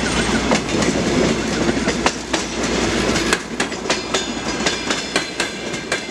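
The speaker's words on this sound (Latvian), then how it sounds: "Vilciens ir neticami smags." A heavy train rolls past close by on the rails, a loud steady rumble with rhythmic clickety-clack wheel beats that grow more distinct as the cars go by, with no voices.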